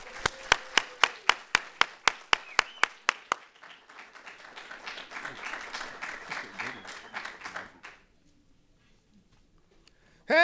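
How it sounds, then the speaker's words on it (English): Applause for the director of a racial justice alliance at an event: a dozen loud, evenly spaced claps open, then a broader wash of audience clapping swells and fades out, followed by near silence. "Please give a warm round of applause for the director of the Vermont Racial Justice Alliance."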